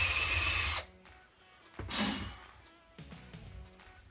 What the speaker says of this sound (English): Okay, hole is drilled in our bottle right there.